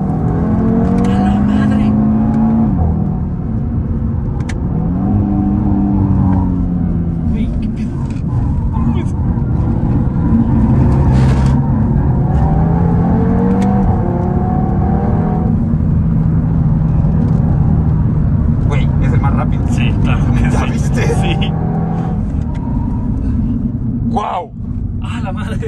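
Several Audi cars drive past and accelerate in a steady, loud engine rumble with rising revs, heard alongside continuous casual conversation throughout.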